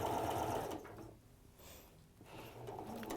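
A sewing machine stitches along the other side of a piece of fabric in close, steady bursts, pausing briefly midway before running again, with no voices over it.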